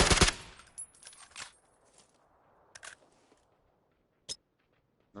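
Gunfire in the PS4 shooter PUBG comes as a loud close burst of rapid shots at the start, then scattered single reports and short rattles spread across a quieter stretch.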